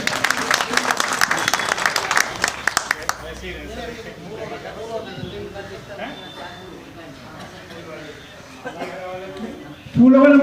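Brief applause at a community meeting with local police in Seelampur opens loudly for a few seconds and then fades, leaving someone talking and crowd murmur for the rest.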